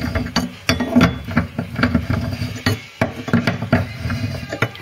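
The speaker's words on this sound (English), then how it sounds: "nip that up with the spanner, and that shows you how you lock your super duper wheel in." A spanner nipping up the spare wheel clamp in the boot of a Ford Cortina MK3 GXL under restoration, giving close metallic clicks and knocks in an irregular series of short bursts.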